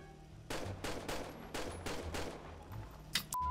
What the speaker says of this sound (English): I have to shoot the cop for him.